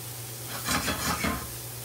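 Spices for jambalaya sizzle and crackle in a hot pot, a steady frying hiss swelling in a few short bursts as they are stirred, close and moderately loud with no talk.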